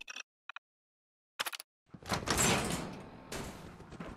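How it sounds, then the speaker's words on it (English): A door in Fallout 4 opens after a few short clicks and taps, sliding with a loud rushing whoosh that tapers into a sustained hum. "Open the door."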